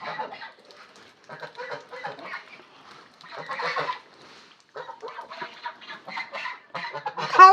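Village chickens cluck in repeated short bursts and busy bouts, close by, with brief pauses between runs and a louder squawk near the end, with no talking.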